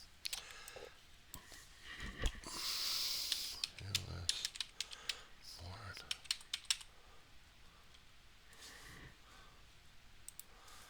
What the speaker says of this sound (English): I typed in for the Google search of citizenship